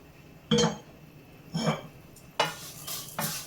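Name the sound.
vermicelli (semiya) roasting in ghee in a pan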